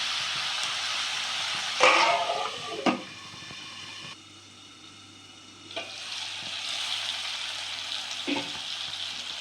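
Tomatoes for egg masala sauté in a pan with a close, steady sizzle; a few sharp clatters of stirring break in, and the frying briefly quiets before resuming.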